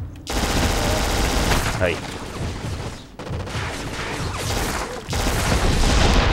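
A thrown grenade blasts in a shooter game amid heavy, continuous gunfire, with loud explosive bursts near the start and again partway through, and a brief voice underneath.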